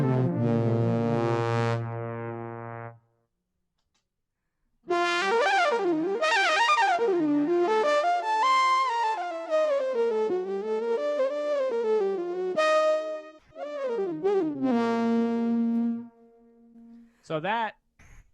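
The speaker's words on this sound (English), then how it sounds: "I use a synth pedal called the Source Audio C4." Saxophone played through a Source Audio C4 synth pedal, giving buzzy, synthetic horn tones: one long held note, a short silence, then a winding, gliding melodic phrase with a few brief notes at the end.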